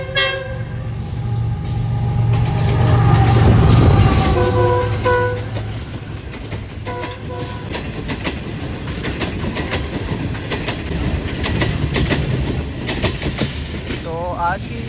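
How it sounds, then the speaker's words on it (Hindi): Train rolling through Karachi, loud and close, with a rumbling rush of wheels and carriages and horn toots sounding over it; people talk in the background. "तो आज की डिनर ट्रेन भी है।"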